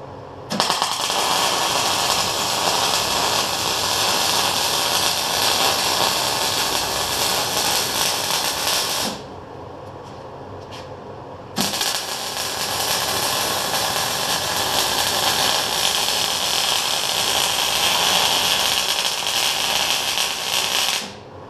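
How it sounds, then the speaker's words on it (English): Arc welding on a clamped backhoe part gives a loud, steady crackling hiss that runs for several seconds, breaks off briefly, then resumes for a long continuous bead. "I'm just going to try and weld it"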